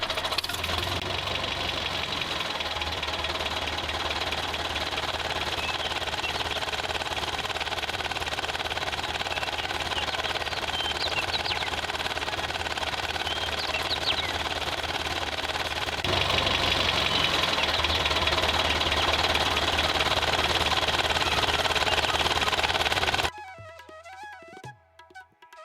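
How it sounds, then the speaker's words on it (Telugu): A tractor engine idles nearby with a steady, knocking diesel chug that runs loud and unbroken for about twenty-three seconds, then cuts off abruptly, leaving faint background sounds. "అంకుల్, ఇక్కడ ఆపేయండి ట్రాక్టర్ని."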